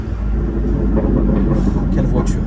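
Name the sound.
BMW M4 CS engine sound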